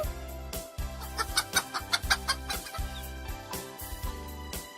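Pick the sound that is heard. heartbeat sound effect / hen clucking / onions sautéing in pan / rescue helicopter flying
hen clucking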